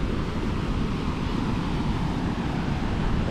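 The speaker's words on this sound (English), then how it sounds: "Look at the amazing and beautiful sounds of the ocean here." Ocean surf at Ocean Beach in San Diego roars as a loud, continuous wash of breaking waves, blended with heavy wind buffeting the microphone and no voices.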